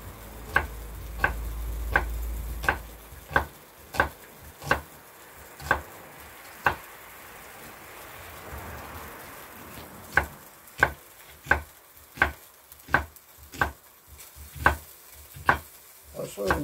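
A knife chops food with about twenty sharp, evenly spaced strikes against a board, heard close over a soft background hiss.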